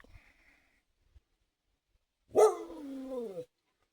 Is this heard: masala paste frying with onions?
no